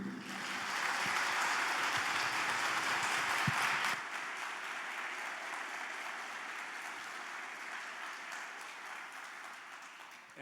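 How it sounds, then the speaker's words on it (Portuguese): A lecture audience applauds to welcome a speaker: loud, dense clapping for about four seconds that then drops to a softer, lingering patter and room murmur. "Recebemos agora com uma salva de palmas"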